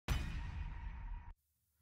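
A single crash cymbal sample layer from a pop-country drum production hits hard with a bright, washy splash and a heavy low thump, then sustains for just over a second before stopping abruptly.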